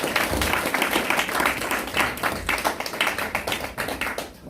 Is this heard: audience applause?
yes